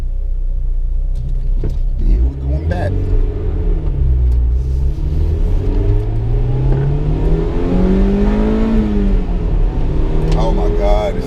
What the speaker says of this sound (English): it sounds so good when VTEC cracks